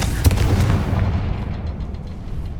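Confringo fire spell blasting in the Hogwarts Legacy video game, a loud booming burst early on followed by a rumbling, crackling tail that fades over a couple of seconds.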